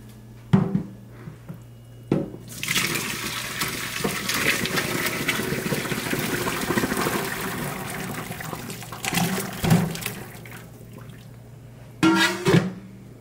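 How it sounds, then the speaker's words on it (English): Boiling water poured off braised ox tails, a steady splashing, trickling pour lasting several seconds in a kitchen, with clattering pot sounds before and after it. "I'm going to show you what it looks like when I'm going to pour this first water off"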